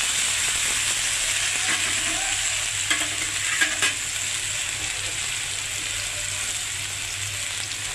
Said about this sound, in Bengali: সুন্দরভাবে আমি লতাটা কেটে ভেজে নিব।